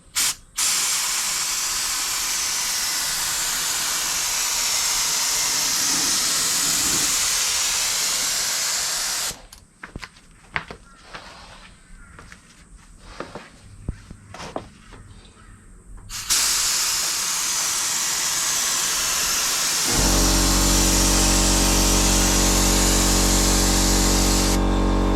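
An aerosol spray paint can hisses loudly and continuously while laying a final coat, with a break of quieter handling noise midway before a long, steady spray resumes.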